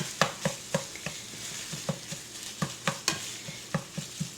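Sliced sausage browning in a frying pan, a steady sizzle broken by frequent sharp scrapes and clacks of a utensil stirring, close and fairly loud with no voices.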